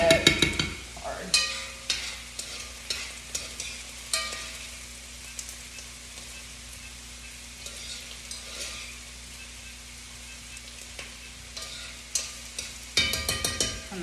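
Onions fry quietly in a pan with a low, steady sizzle, joined by scattered clinks and scraping from stirring that grow busier near the start and end.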